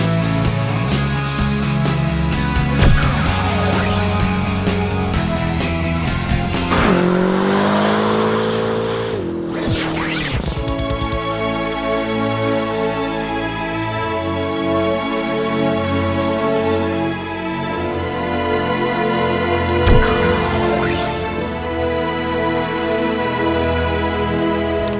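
A 2013 Dodge Durango and a Chevy Traverse drive off-road through mud, engines revving loudly and changing pitch, with tires spinning and sliding throughout.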